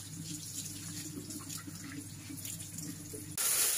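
Tap water runs steadily into a kitchen sink as fresh spinach is rinsed, a continuous close splashing hiss that swells louder in the final moment.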